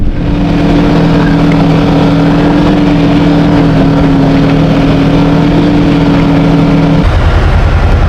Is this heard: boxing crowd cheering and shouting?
no